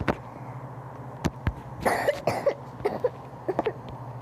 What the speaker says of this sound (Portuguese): Aí eu acordei com muita tosse